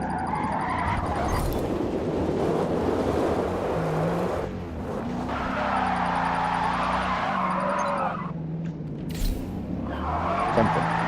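A supercharged Ford Mustang SVO in Forza roars through sustained engine tones that rise and fall across gear changes, with tire squeal and brief drops in level, loud and continuous with no talking.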